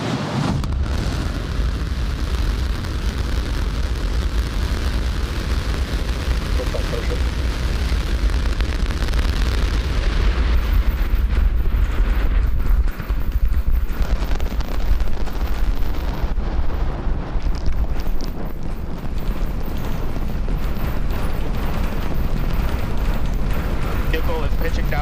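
SpaceX Starship rocket launch from liftoff into flight, with the 33-Raptor booster and its full-stack roar. A loud, continuous, broadband rumble carries heavy low-end power and sustains without break throughout, with a commentator's voice over it.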